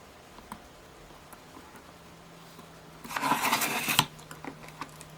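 A single short burst of crisp cutting, about a second long, trimming a thin strip off a paper cover, close by in an otherwise quiet room with faint ticks.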